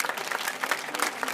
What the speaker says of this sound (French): on va l'applaudir, c'est superbe